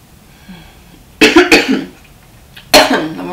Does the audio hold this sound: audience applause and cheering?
no